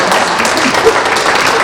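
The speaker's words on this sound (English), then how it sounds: "A huge applause." Audience applause at a high school college panel, a steady wash of clapping filling the room with some voices mixed in, moderately loud throughout.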